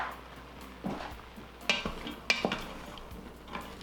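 Chopped celery, carrots, zucchini and onions tipped from a board into a soup pot, a few soft thuds and clatters of vegetables and utensil against the pot, close up and fairly quiet.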